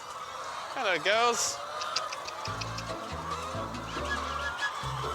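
A short spoken greeting, then a chorus of clucking and squawking from about 6,000 hens crowding nearby in a poultry shed, with several sharp honk-like calls over a constant hum.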